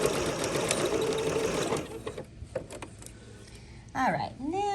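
A sewing machine stitches a French seam, running in a close, steady burst that stops partway, then quieter handling noises and a brief whirring of the handwheel or backstitch follow, with no talk.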